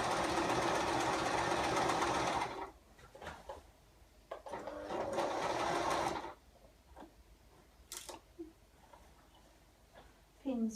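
A sewing machine runs a seam on a girl's dress in a loud, steady burst, pauses, then sews another stretch, with quieter handling clatter in between and a final brief start.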